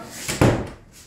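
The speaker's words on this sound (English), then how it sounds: "We got to shut the door." A door in a home kitchen is pushed shut with a single dull thud, preceded by a faint brush of movement. It is close and brief, with no talking.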